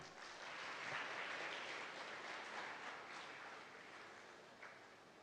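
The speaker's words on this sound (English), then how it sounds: "Please give a huge round of applause." Applause from the audience at a Google Cloud Community Day event in Bhopal, a soft steady wash of many hands clapping, moderately distant, swelling slightly then easing over five seconds.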